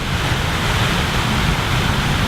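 Water pours steadily from Buckingham Fountain in Chicago during its hourly display, a loud, continuous rushing wash with no breaks.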